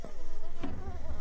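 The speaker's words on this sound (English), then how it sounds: "Oh dear, bees." Bees buzzing in the survival video game Grounded, a close, continuous droning insect hum that wavers slightly over about a second.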